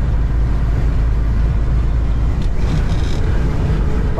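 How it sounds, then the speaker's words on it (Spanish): Dust-storm wind buffets a truck cab on a highway, a dense, steady roar of wind and road noise with no pause. "Si pueden escuchar, ahorita hay una tolvanera."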